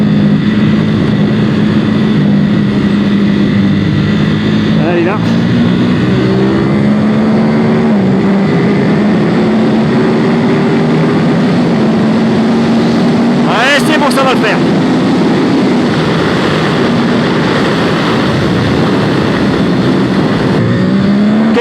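A 2021 Ducati SuperSport 950 S motorcycle accelerates hard on the road, its engine drone rising through the gears with brief shift dips, loud and close under constant wind rush.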